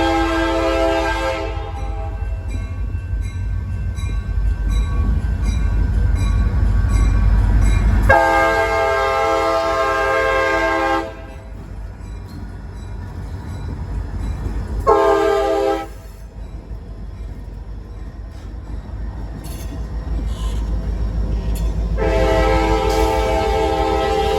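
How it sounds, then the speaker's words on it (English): Two GP40-2 locomotives lead an MBTA freight train into the station long hood forward, loud and close: heavy diesel rumble under repeated blasts of a chord horn, with wheels clacking over the rails between them. "L010, arriving from Reedville with two GP40-2 locomotives long hood forward"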